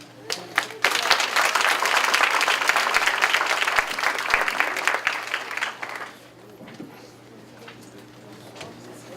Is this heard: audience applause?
yes